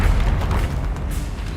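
Confringo spell explosion in Hogwarts Legacy, a loud, low rumbling boom with crackling debris that holds steady for over a second before tailing off.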